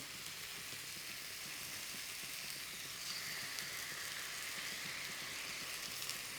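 Kecap manis, a sweet soy sauce, sizzles in a hot pan as a faint, steady, rain-like crackle that swells slightly partway through, with no voices.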